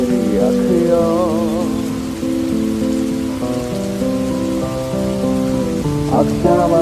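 Rain falls outside with a steady hiss beneath muffled melodic music playing from another room, the notes shifting in pitch while the rainfall stays constant.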